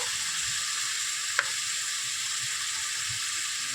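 Ground spices with turmeric sizzle steadily in hot oil in a pan while frying for a tengra fish curry, a loud, even hiss with one brief clink partway through.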